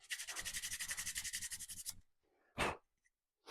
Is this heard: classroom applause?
no